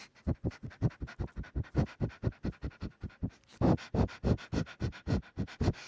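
A person imitating a dog up close, making a fast regular series of short sharp breathy sniffs and pants, about five each second, with the puffs getting louder and harsher in the second half.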